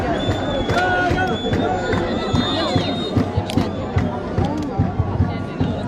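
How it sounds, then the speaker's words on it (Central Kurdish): Rania club fans clap and cheer in the stands at a football match against Sawra, a lively crowd with scattered sharp claps over a continuous babble of voices. "لەنێو چەپڵە ڕێزانی هاندەرانی یانەی ڕانیا"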